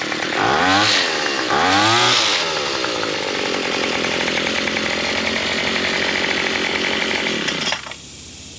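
A TroyBilt gas hedge trimmer engine runs close and loud, revving up twice in quick throttle bursts before settling into a steady buzzing idle, then cutting back sharply near the end.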